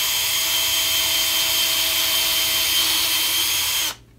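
Power drill boring a small hole through a painted Telecaster-style guitar body, a loud, steady close-up whine that holds for about four seconds and then cuts off abruptly.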